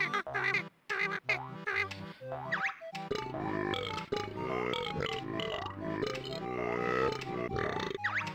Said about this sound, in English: He is all burps for talking.